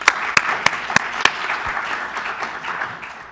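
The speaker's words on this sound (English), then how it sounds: "Please give him a round of applause" An audience applauds a Texas state legislator at a panel event on state budget priorities: a few sharp, separate claps at first, then a steady, dense patter that slowly thins out.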